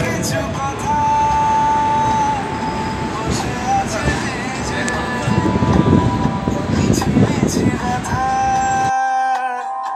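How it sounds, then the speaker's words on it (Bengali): A long-distance train departing Kharagpur junction for Bengaluru rumbles steadily as heard from on board, with faint clanks and murmuring voices, before the sound cuts off abruptly near the end. "খড়গপুর স্টেশন ছেড়ে আমাদের ট্রেন চলে যাচ্ছে।"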